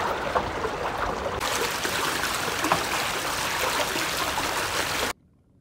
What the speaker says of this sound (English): Big current coming down the river.